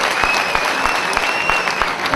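A university Onam celebration audience claps in a lively, continuous patter of many hands, with a thin sustained whistle running above the applause.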